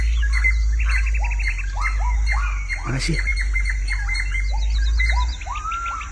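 A crow and a drongo trade calls while fighting in a durian orchard, with repeated sharp chirps and rising calls over a steady low hum and a brief spoken remark.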